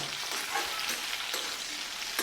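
Cumin seeds frying in hot oil in a pan, a dense, steady crackling sizzle with small pops and occasional stirring scrapes, close and continuous, no voices.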